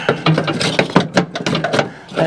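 A wrench works at a bolt on the steering support of an M274 Mule, giving loud, close, uneven ratcheting clicks and grinding scrapes in quick bursts.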